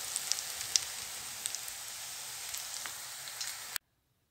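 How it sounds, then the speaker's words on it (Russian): Pollock fish cutlets made from ready-made minced fish fry in oil across two pans, giving a steady close sizzle with scattered sharp pops and crackles and no talking, cutting off abruptly near the end. "Жарю котлеты я на 2 сковородках."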